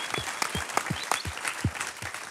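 Applause from a studio audience at a German radio show, a dense run of rapid claps at moderate loudness with no voices over it.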